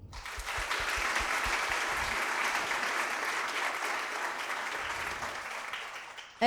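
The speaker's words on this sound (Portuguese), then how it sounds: "quero uma salva de palmas para a Secretaria de Cultura e para o PMIC" Sustained audience applause at a contemporary piano recital launch, a steady dense wash of clapping that holds for several seconds before cutting off abruptly at the end.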